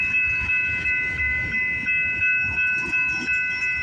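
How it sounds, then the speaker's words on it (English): Train passing by on the Alton subdivision near Bronte, with a steady rumble, rhythmic wheel clatter and a sustained high tonal whine or whistle, moderately distant and without talk. "There might be a train going by on the Alton sub right now."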